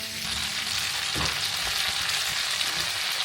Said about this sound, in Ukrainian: Е, я їх смажу тільки для смаку